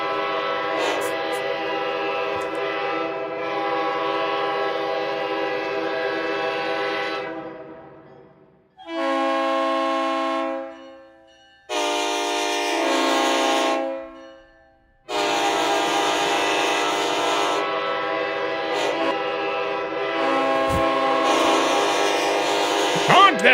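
A loud train horn sound effect plays during a game stream, sounding in several long sustained blasts separated by short gaps.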